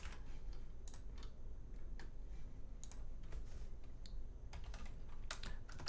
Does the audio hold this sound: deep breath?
no